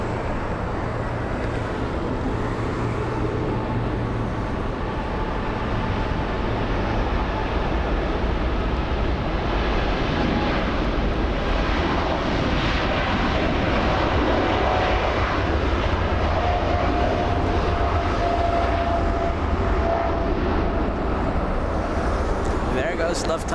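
Lufthansa Airbus A380 jet at LAX, a steady broad engine roar holding for the whole stretch, loud and continuous, with a faint voice now and then beneath it.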